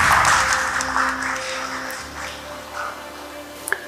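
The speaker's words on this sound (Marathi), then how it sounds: "जोरदार टाळ्या होऊन जाऊ दे" A brief burst of audience clapping at a women's leadership dialogue event, strongest at first and then fading under a lingering tonal hum.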